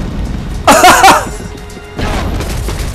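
A grenade blows up in the zombie video game Dead Rising. A loud blast with a crackling, debris-filled burst is followed by a quieter rumbling second impact, heard alone without voices.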